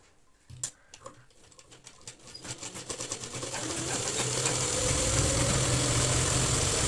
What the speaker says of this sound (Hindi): अब हम अपना यहाँ पे एक पक्की सिलाई कर लेते हैं